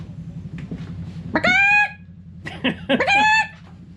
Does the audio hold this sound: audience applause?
no